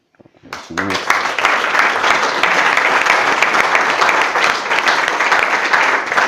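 Dense audience applause follows a Poolcare pool-service pitch at a live startup pitch event at La Cantine Quai des Savoirs, rising sharply after a short lead-in and continuing loud and even without a break.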